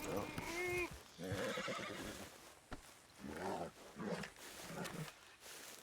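A Norfolk Roadster horse in a western roleplay game gives a clear, wavering whinny, followed by snorts and low breathy calls at moderate volume, with no voices over it.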